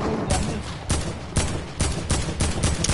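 Gunshots in Fortnite, sharp cracks landing in a loose series of about seven or eight evenly spread shots, close and loud over a noisy background.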